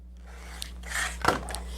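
Scissors cutting through sewn quilting fabric to separate half square triangles, a soft close snip-and-rasp of blades through cloth with a sharper crunch near the end, quiet and near with no talk.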